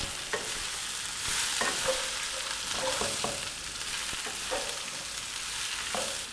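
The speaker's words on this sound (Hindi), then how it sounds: "गोभी को लहसुन के साथ हमने भून लेना है" Cauliflower florets frying with garlic in a pan, sizzling continuously while being stirred, with repeated scraping and clinking strokes of the spoon close by and no talk.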